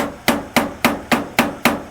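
Seven sharp metallic hammer taps on rusted screws on a barn-find car, at a steady pace, each ringing briefly before the next strike, close by with no talking.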